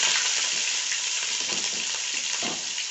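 Grated onion hits hot oil with cumin seeds and sizzles steadily and loudly throughout, with a faint stirring scrape and no talking.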